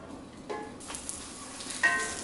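Onions caramelizing in a pan sizzle softly and steadily for a turkey burger, with a few faint scraping stirs of a utensil against the pan. No talking.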